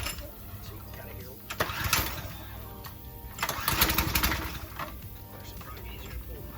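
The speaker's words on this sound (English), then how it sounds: "we're going to go ahead and crank it" Gasoline pressure washer engine, throttle set to fast, being pull-cranked and briefly catching before dying out, with rough bursts of engine noise around two and four seconds amid a voice talking nearby.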